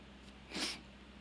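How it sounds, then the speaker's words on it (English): A single quick, breathy sneeze bursts out briefly over quiet background, soft and close. "I think I got to sneeze."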